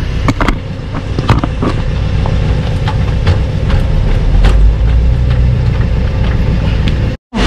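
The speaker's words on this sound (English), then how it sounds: "And the engine now runs smooth" A 2008 Toyota Hiace engine idling smoothly after a head gasket repair, a close, steady low rumble with a few ticks and knocks on top, cutting out briefly near the end.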